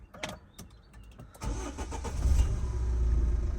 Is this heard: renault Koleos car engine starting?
yes